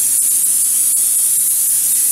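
Spray gun applying PURETi Clear coating gives a steady, loud hiss throughout, with a few faint clicks and a low hum beneath.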